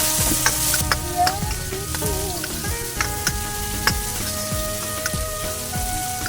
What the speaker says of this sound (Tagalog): Gisahin lang din ng ilang segundo upang lumambot ang kamatis.